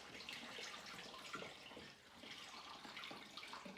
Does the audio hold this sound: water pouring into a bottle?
yes